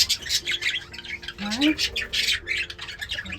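Budgies in a busy aviary nursery chatter and squawk constantly, a dense, close stream of scratchy chirps and calls, with a person speaking briefly over them.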